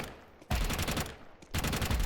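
A weapon spray in the shooter CS2: two loud, close bursts of rapid automatic fire, the first lasting about a second, then a brief pause before the second burst begins.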